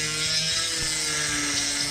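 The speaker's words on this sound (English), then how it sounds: "Drill a small hole into the center of the screw head." A power drill with a bit slightly smaller than the screw head bores a small hole into the center of a stripped screw head, giving a steady whirring grind with faint tonal whine throughout, no voices.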